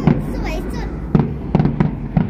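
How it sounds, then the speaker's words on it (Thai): Fireworks bang at the 2020 Pattaya fireworks festival, viewed from a 26th-floor balcony of the Holiday Inn Pattaya: several loud, sharp booms arrive in an uneven series as people talk nearby. "แม่พูดว่าพลุ"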